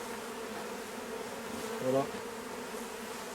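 Honey bees buzzing around a hive during a summer honey harvest, a steady low hum with a brief louder swell as one passes close, and a voice says a single word softly.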